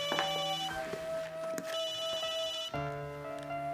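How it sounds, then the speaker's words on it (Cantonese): A telephone rings in a TV drama scene, its repeated electronic tones sounding clearly and fairly loud, stopping briefly near the middle before ringing again toward the end. "唔好意思，我聽個電話先。"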